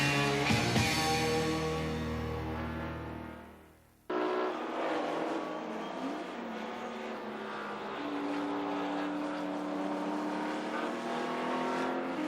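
Touring cars race at Sandown in the 1985 Australian Touring Car Championship, a Commodore leading a BMW and an Alfa, engines roaring loud and continuous with a brief drop-off before the full roar snaps back.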